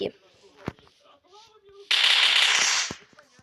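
A grenade explodes in a modded shooter game, a loud sustained burst of blast noise lasting about a second, preceded by scattered clicks and faint tonal game sounds, with a voice speaking around it.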